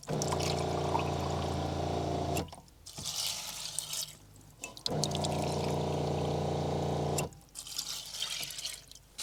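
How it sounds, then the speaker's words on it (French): Water from two cups poured into a cooking pot in a kitchen, in two long steady pours of about two seconds each, separated by quieter handling sounds, close and clear with no talk. "tu mets derrière 2 gobelets d'eau"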